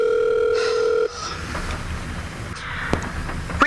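Telephone ringing tone on a line, a steady buzzing ring lasting about a second, followed by faint line noise and a few small clicks.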